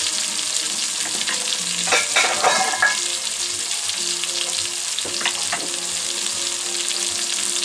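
Tuna steaks pan-searing over medium-high heat, a loud continuous sizzle with a few brief scraping stirs near the middle.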